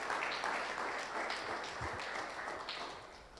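An audience at a church ministers' gathering applauds with faint, distant, continuous clapping that fades slightly toward the end, with no voices over it.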